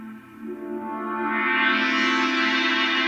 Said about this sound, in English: putting a filter like this before a reverb